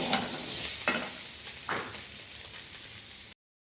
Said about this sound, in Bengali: আলুটাকে একটু কড়াইতে সাদা তেল দিয়ে সামান্য হলুদ দিয়ে আলুটাকে একটু ভাজা করে নেব